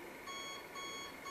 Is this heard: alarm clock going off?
yes